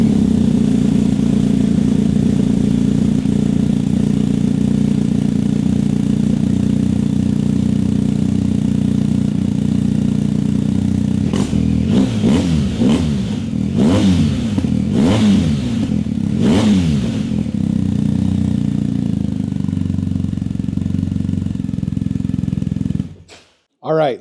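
A BMW 1250 motorcycle with its stock exhaust idles with a loud, close, steady rumble, then blips the throttle in several quick revs before settling back to idle and cutting off at the end.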